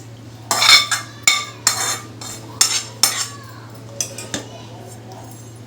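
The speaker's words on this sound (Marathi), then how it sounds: "तर ती मी आता ह्या वाटीमध्ये काढून घेते तिला।" Chopped spinach for a rustic palak sabzi is scooped from a kadhai into a small bowl with a spoon, making about eight sharp metallic clinks and scrapes at an uneven pace over a steady low hum.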